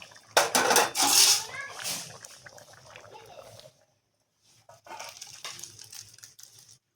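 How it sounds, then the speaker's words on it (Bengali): A pot of egg curry is lifted off the stove with loud metallic clanks and scrapes of cookware and utensils up close. The sound fades to quieter handling noises, with some talking. "এখন আমি গরম মশলার গুঁড়োটা দিয়ে তরকারিটা নামিয়ে নেব।"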